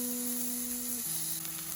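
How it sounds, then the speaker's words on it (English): Steak sizzles steadily in a hot pan just after being turned over, a dense close hiss with a faint tonal hum running beneath it. "turn it over, and hear that sizzle a-comin'"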